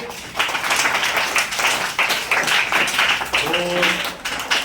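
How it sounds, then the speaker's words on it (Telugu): A classroom of children claps for a girl, a steady burst of many hands beating together that holds at moderate loudness for several seconds, with a faint voice briefly audible underneath. "6 క్లాప్స్ కొట్టడం అమ్మాయికి."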